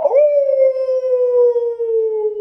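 A man howls in imitation of a dog, one long sustained wavering tone that swells quickly and holds steady for a couple of seconds, loud and close.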